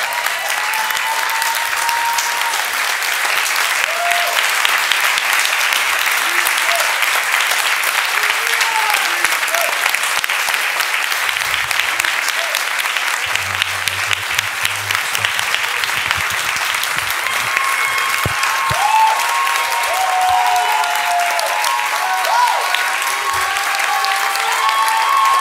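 A live church congregation claps hands for Jesus in a long, steady, dense wash of applause, with faint voices and musical tones drifting underneath.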